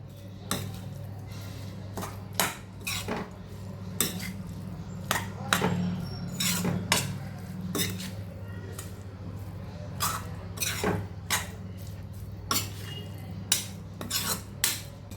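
A spoon scrapes and knocks against a bowl while pizza bun stuffing is mixed with cheese slices, giving a series of sharp, irregular clinks and taps over a low steady hum.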